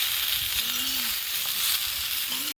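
Pointed gourd and drumsticks sizzle in a wok with turmeric and salt, a continuous close frying hiss with faint stirring underneath.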